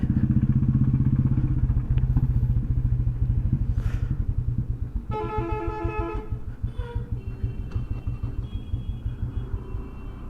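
A motorcycle engine idles close by at a petrol pump with a steady thumping putter throughout, joined midway by a brief clatter and a short electronic beeping.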